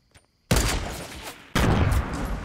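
Gunfire in the video game Fortnite: two loud, dense bursts of rapid shots, the first lasting about a second and the second starting just after, both close and filling the clip with no talk over them.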